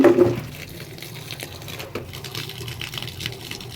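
Clothes are washed by hand in a basin of dirty water, giving sloshing and splashing with soft wet rubbing and a louder splash at the start, continuing unevenly throughout with no talk.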